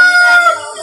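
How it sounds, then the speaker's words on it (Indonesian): A rooster crows once, close and loud, a sustained harmonic call heard alone just before sunset at the end of a Ramadan fast. "Kukuruk juga lagi ayam ini."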